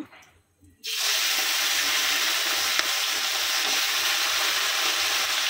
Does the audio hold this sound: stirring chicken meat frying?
yes